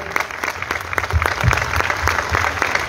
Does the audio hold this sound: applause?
yes